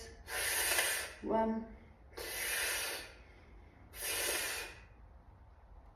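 Three slow, deep breaths during a twisting core exercise, each a long airy hiss of inhale or exhale lasting about a second, evenly spaced, close and clear, with a brief voiced sound between the first two.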